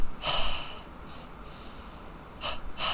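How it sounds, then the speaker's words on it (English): Double breathing from a Kriya exercise: a few forceful, close nasal inhales and exhales in short bursts, airy and hissing, with no talking. "in this example, with the double breathing,"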